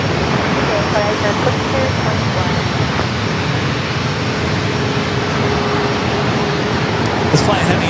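Boeing 737 MAX 8 jet airliner at San Diego airport, a steady broadband roar of jet engines from a distance, with a voice talking over it.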